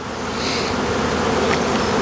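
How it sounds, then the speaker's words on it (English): Bees buzz loudly and continuously up close, a dense droning hum filling the whole clip. "And we will smoke those bees down."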